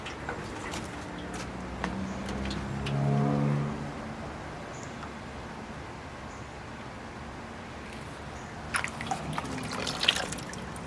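Fertilizer water pours into a watering can in a bonsai setting, a faint, steady trickle with a brief louder gush early on and scattered drips and clinks near the end, quiet and close with no talk.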